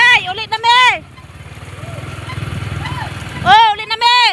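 A motorcycle engine putters with a close, steady pulsing rumble for a few seconds between bursts of speech, with voices before and after it.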